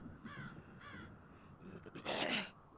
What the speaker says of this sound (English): Can we say hi to the crows?